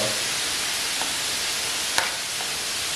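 A continuous frying sizzle comes from chicken cooking in a pot, with a few soft stirring knocks at intervals, close and steady, with no voices.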